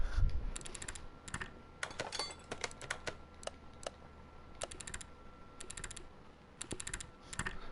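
Rapid bursts of small mechanical clicks from spring assembly in the Car Mechanic Simulator 2021 video game, repeating in quick clustered runs over a faint steady hum, with no talk.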